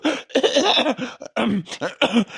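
A series of rough, throaty coughs in quick bursts, close and fairly loud, with short gaps between fits.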